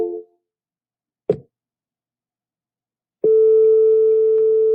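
An outbound phone call placed from a computer dialer for a homeowner: a short tone, a click, then a steady continuous call tone that holds to the end, with no voices.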